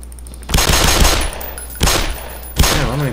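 Gunfire in the video game Black Mesa, with three loud, close bursts of rapid automatic fire separated by short gaps.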